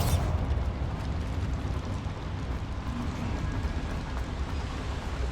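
Bombarda blasting spell cast in Hogwarts Legacy, a dense rumbling roar that hits loudly at once and keeps rolling without a break.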